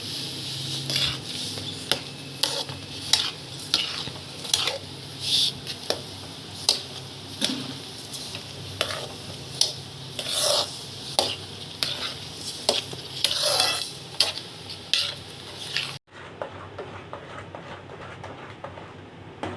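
Sugar being stirred into cooking kesari in a pan, with repeated scraping strokes and a soft sizzle throughout, close and fairly loud, ending abruptly into near quiet.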